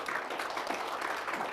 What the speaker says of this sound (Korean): 박수 한번 치셔야 돼 이거.